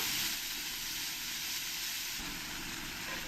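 Shredded cabbage sizzling as it fries with onions in a pan, a steady close hiss that stays even throughout with no voices over it.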